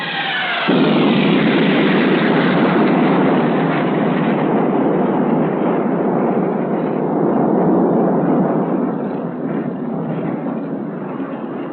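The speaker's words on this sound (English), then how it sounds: "F-104s conducted an effectiveness test of napalm against tank targets." Napalm strike by F-104 jets on tank targets in a 1963 US Air Force weapons test: a sudden loud roaring whoosh that builds into a sustained, rumbling fiery blast lasting many seconds, filling the whole soundscape without talk.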